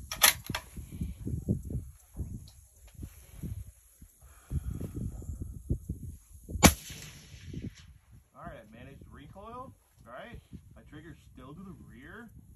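A single rifle shot fired from a rest with a shooting bag: one sharp crack midway, preceded by handling and rustling noises and followed by someone talking.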